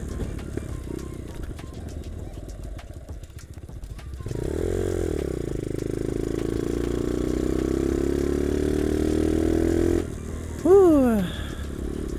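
Dirt bike engine running steadily in traffic, a low continuous drone that rises in level partway through, with a brief high rising and falling whine near the end; a voice is faintly present.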